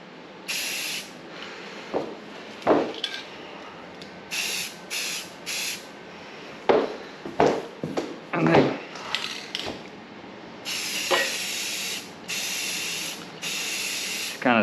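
Primer is sprayed from an aerosol can onto an engine's timing cover and valve covers in a tight space, short hissing bursts repeating between clicks and knocks of handling, with someone speaking briefly in the gaps.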